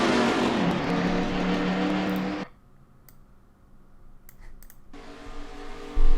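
Stock cars roaring in a pack at a restart at Charlotte in NASCAR Racing 2003: loud, dense engine noise for two seconds, then a sudden quiet stretch with faint clicks, before the engine roar returns.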